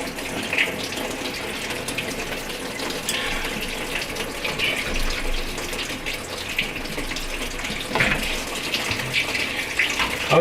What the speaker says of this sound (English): There's a little valve underneath there that you turn and it drains all the water out.